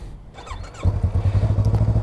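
A 2015 or 2023 Yamaha R25 motorcycle starts up after a short whine and squeal, then settles into a steady, close, rhythmic idle with even pulsing beats, with no one talking over it.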